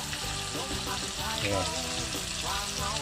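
Pieces of eel fry in hot oil for a southern Thai eel curry, giving a loud, continuous crackling sizzle with occasional stirring.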